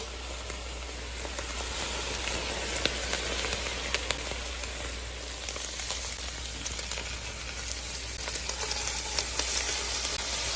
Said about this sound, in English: Now we're gonna saute these until they get soft.